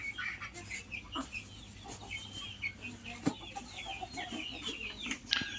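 Brahma hens and other imported chicken breeds cluck and call together on a farm, a steady chorus of fowl sounds near and far with a few louder squawks and brief wing rustles, no talking.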